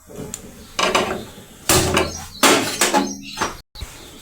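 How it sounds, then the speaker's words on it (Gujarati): A kitchen gas stove is switched on and lit before cooking okra, with a series of close, sharp mechanical clicks and knob rattles in separate bursts, then a brief pause. "હવે ગેસ ચાલુ કરી લઈશું।"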